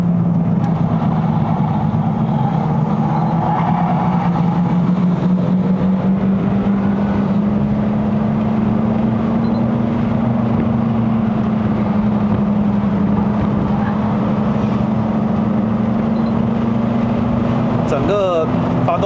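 A 2.0L MK3 Ford Focus Sport+ engine drones steadily from inside the car as it climbs a mountain road in Malaysia, the pitch rising and falling slightly, with voices talking over it.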